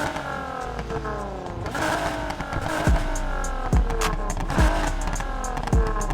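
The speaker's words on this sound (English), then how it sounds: "you guys can hear that supercharger a little bit" Nissan 180SX Sileighty race build with a supercharged VR38 engine in the racing game Need for Speed Heat, revving repeatedly with rising and falling pitch sweeps, supercharger whine and sharp shift or blip transients, close and loud.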